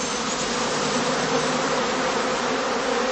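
Honey bees buzzing around heather skeps in an apiary set in a birch, alder and pine wood, a dense steady hum of many insects, close and continuous, with no voices.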